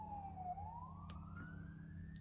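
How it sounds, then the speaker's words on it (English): Emergency vehicle siren wailing steadily, its pitch dipping and then rising in a smooth sweep, heard at moderate distance over a low rumble of traffic. "sirens."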